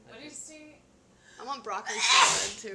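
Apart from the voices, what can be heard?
sneeze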